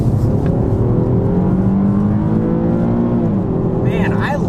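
The 3.7-litre V6 of a 2018 Infiniti Q70L AWD sedan revs high with a rising, steady engine drone heard from inside, accompanied by a voice talking over it.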